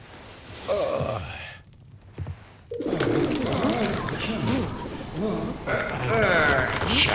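Pigeons cooing nearby in soft repeated calls, mixed with breathy sighs and a brief quiet gap partway through.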